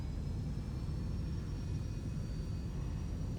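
An aircraft engine in the X-Plane 11 flight simulator roars at full throttle, a steady low rumble with a faint high whine, continuous and unbroken with no voices.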